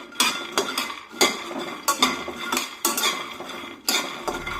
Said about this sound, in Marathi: मध्यम आचेवर शेंगदाणे भाजून घ्यायचे